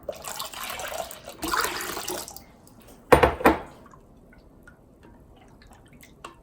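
Water pours into kimchi broth in two short splashing bursts, the second louder, followed by quiet trickles and a few faint drips.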